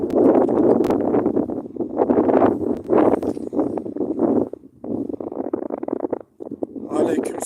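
Heavy wind buffeting the microphone outdoors among almond trees, in continuous low rumbling gusts, loud and close, briefly easing near the end.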